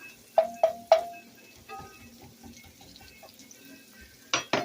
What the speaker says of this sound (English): I'm going to add just a little bit of water